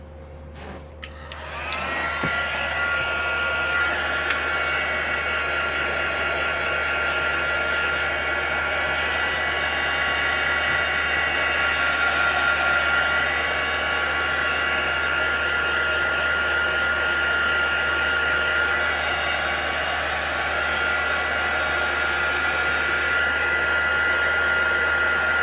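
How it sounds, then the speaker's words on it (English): A heat tool blows continuously to dry watercolor stamp ink, a loud, steady whooshing hum with a whine that runs close and unbroken for about 25 seconds, with no talking. "So I'm going to grab my heat tool and I'm going to dry that off."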